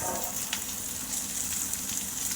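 Onion pieces fry in a pan along with prawns, making a dense, close sizzle that holds steady and fairly loud throughout, with faint stirring and no talk.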